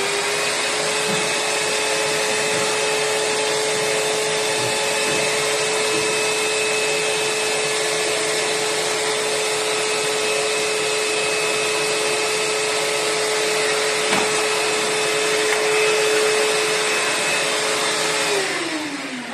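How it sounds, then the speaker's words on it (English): A vacuum cleaner runs steadily at close range for most of the time, its constant motor whine and airflow rushing as it hoovers the floor under a bed, then powers down near the end. "please also hoover under the bed"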